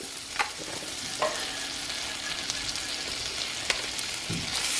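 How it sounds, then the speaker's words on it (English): Butter melting and sizzling in a pan, a steady close hiss of frying with a few soft clicks and taps of a utensil against the pan. "Then I'm going to put the butter in there. And just let that melt."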